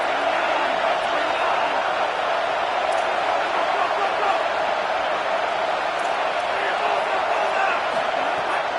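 A college football crowd at a Miami vs Notre Dame game roars in the stadium, a loud, sustained wash of noise holding steady throughout with no clear breaks.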